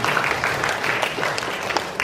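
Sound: audience clapping in congratulations

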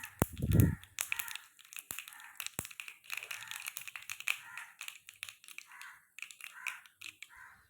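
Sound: mustard seeds spluttering in hot oil in a pan

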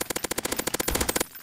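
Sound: gunfire in Counter-Strike Source zombie escape video game

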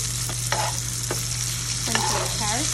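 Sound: onions and carrots sizzling while sautéing for escovitch sauce

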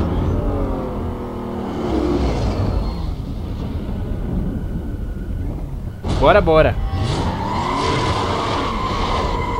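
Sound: Corvette racing car in video game Need for Speed Most Wanted

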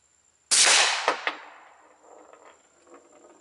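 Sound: suppressed Glock 19 9mm shots, SilencerCo Octane 45

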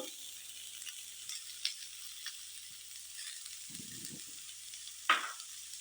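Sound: potatoes frying in a pan with spices

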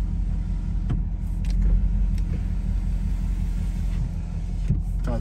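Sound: 2019 Ford Mustang GT convertible power windows going up

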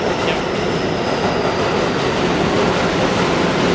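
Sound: subway train passing in New York City

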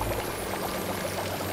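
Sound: water pouring to put out fire in LEGO Harry Potter video game

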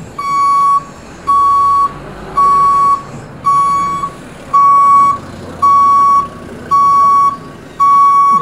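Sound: Daewoo Damas van reversing beeper

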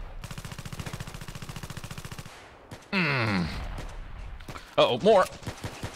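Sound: Video game gunfire from FN57 pistol or Honey Badger rifle

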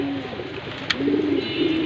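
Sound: pigeons cooing

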